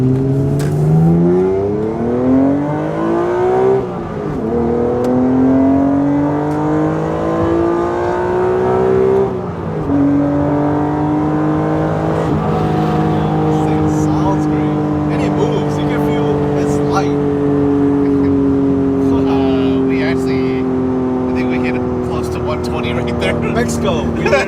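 A 1991 Honda NSX sports car is driven hard through corners from inside the cabin, its engine loud and near, pitch climbing and dropping through repeated gear changes and sustained pulls, with people talking over it.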